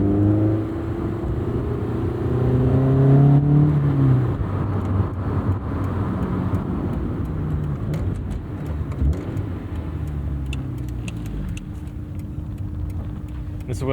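A Honda S2000 AP1 with cable-actuated throttle on a night drive, its engine rising in a couple of rev sweeps early on before settling into a steady cabin rumble, with someone talking over it throughout.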